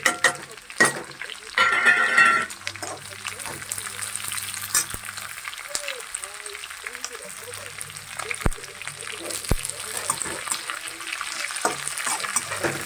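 Onions frying in a pan for a jackfruit curry, a steady close sizzle with occasional clinks of utensils and a brief louder burst near the start; a voice talks faintly in the background.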